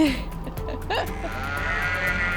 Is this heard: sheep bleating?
yes